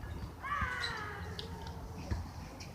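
A pet goose gives a drawn-out, harsh honking call, close and fairly loud, with a faint room background and no talking.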